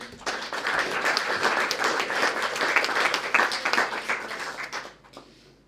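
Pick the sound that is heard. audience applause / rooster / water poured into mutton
audience applause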